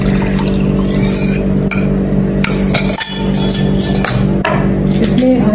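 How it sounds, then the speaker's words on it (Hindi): Cold milk is poured into a mixer jar for instant cold coffee, a steady close liquid pour with glassy clinks and knocks over a constant background hum. "अब इसमें हम एकदम ठंडा मिल्क डालेंगे।"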